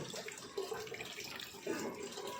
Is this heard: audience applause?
no